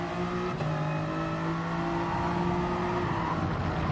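Toyota Gr.3 race car at Lago Maggiore GP in GT Sport, revving through the gears: a steady, loud engine drone with sustained tonal whine, holding and gradually rising in pitch throughout.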